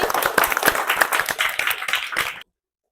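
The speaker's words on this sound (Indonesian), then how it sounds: "Tepuk tangan dulu tuh Dapi" A classroom of students claps for a classmate, a close, busy patter of many hands beating unevenly for about two seconds before stopping abruptly into silence.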